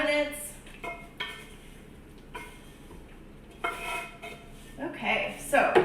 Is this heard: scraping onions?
yes